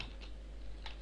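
A few quick key presses on a computer keyboard, faint soft clicks close by in a quiet room.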